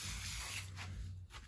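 A steady close hiss of lubricant sprayed from a can onto faded plastic on a Yamaha 350 ATV, one continuous burst lasting the whole moment.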